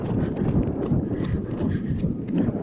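A horse trots along curved lines during a schooling session, its hoofbeats a steady, muffled rhythm close by with some wind noise over the mic.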